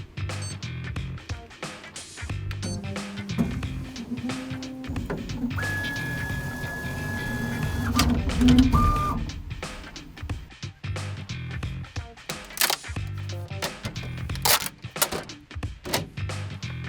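A 3D printer printing a part nearby, with motor whirs, rising and falling stepper tones and mechanical shifts over steady running noise, and occasional knocks and clicks.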